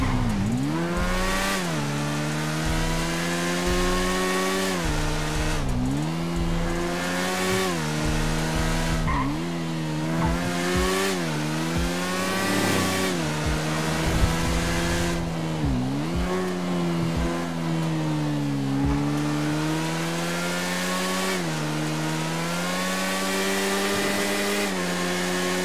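A car engine in the video game GTA RP drives steadily and loudly, its pitch rising and dipping repeatedly as it revs and shifts, with occasional tire squeals throughout.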